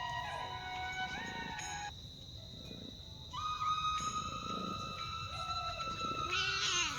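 A house cat meows and caterwauls repeatedly at close range, with drawn-out wavering cries over a faint background hum.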